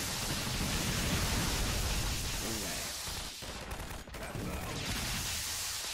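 Combine soldiers open fire in Garry's Mod, a dense, continuous fusillade of rapid gunshots that stays loud and close throughout, briefly thinning midway before surging again.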